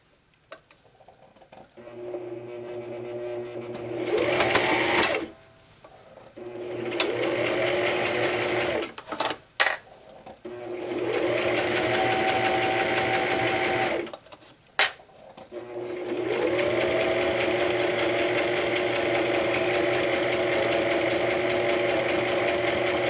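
A sewing machine stitches a cross stitch pillow in several bursts of rapid mechanical whirring and ticking separated by short pauses and a few handling clicks, close and loud, with the final run lasting longest.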